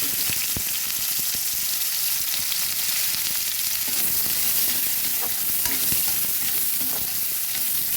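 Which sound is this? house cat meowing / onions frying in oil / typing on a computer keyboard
onions frying in oil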